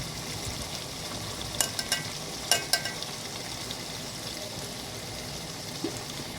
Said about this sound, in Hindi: अब यहाँ पे हम ऐड करेंगे लहसुन अदरक का पेस्ट 2 चम्मच